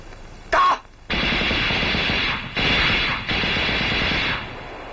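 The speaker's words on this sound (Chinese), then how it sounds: "你听，枪声" Gunfire in a Chinese war film about naval combat in the Taiwan Strait: one sharp close shot, then long sustained bursts of rapid automatic fire that sound like machine guns, loud with brief pauses between them.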